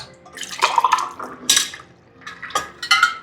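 Water is poured into a glass for phalsa juice in several short splashing bursts, close and clear, with gentle drips between pours.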